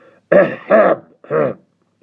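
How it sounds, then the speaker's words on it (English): Three short, forceful throat clearings close by, the last slightly separated from the first two, with silence after. "Sorry, I gotta clear my throat one more time."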